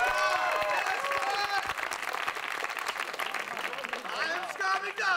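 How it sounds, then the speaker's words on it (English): Crowd applause at a live trampwall competition, loud and sustained throughout with shouts and music-like tones mixed in, voices audible over the clapping. "yeah, applause for that."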